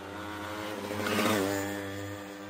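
A motorcycle engine revs up steadily, its pitch and loudness swelling to a peak midway before easing off slightly, heard close and alone with no talking.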